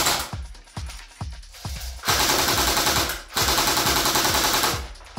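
An airsoft gun fitted with an Acetech Bifrost tracer unit in Rainbow mode, firing tracer BBs: a few close single shots, then two sustained full-auto bursts of rapid, sharp cracks.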